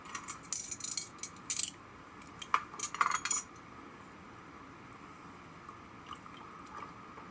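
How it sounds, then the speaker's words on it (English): A utensil clinks and scrapes against a bowl while German potato salad is stirred, with bright metallic taps in a short flurry, then fading to a quiet background hum. "Now, let's give that all a good mix."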